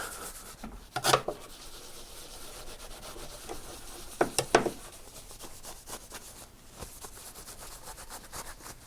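A paper towel wipes residue from the engraving on a machined stainless steel plaque. Soft, quiet rubbing swishes come in short bursts near the start and again midway over a faint background.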